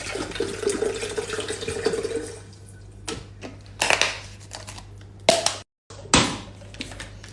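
Tap water runs for a while to fill a kettle for Moroccan tea, followed by a few clanks and knocks of handling, close and alone.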